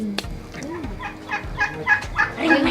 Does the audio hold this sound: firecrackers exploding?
no